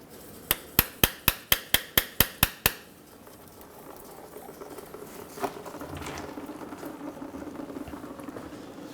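Nine quick, evenly spaced sharp metallic taps ring out around a Ford Focus transmission pan, then give way to a low, scuffing rustle and a single faint knock.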